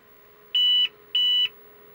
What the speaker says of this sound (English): And we did get a post beep,